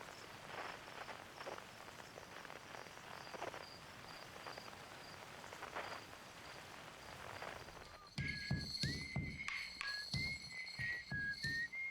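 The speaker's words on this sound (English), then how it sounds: "Okay, whistling and drums." Whistling and drums picked up through the signalscope in Outer Wilds. Rain-like static gives way to a whistled tune over steady, rhythmic drum hits, both clear and fairly close.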